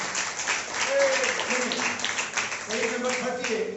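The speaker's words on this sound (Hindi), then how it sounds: "क्या प्रभु की तालियां दे सकते" A church congregation claps in praise of the Lord during a morning worship service; dense, steady applause fills the whole stretch, with voices mixed in beneath it.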